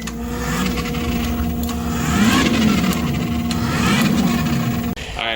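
A small electric RC stunt car runs on a treadmill belt, giving a steady whirring motor drone with a rising and falling hum, close and continuous for several seconds before a brief break near the end.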